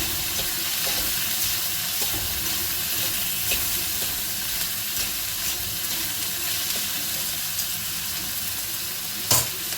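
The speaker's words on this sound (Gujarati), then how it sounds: "છીણેલા કોબીજ ગાજર, એ થોડા એડ કરીશું. વેજીટેબલને બધા મિક્સ કરી લઈએ સરસ આપણે." Grated cabbage and carrot stir-fried for restaurant-style hakka noodles: a steady, dense hiss of frying fills the whole stretch, fairly loud and close, with faint tossing noises and one sharper clatter near the end.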